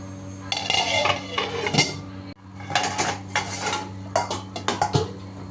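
Metal lid and pot clatter in a home kitchen as kuruma curry is covered while cooking, a few close clinks and scrapes with a steady low hum underneath.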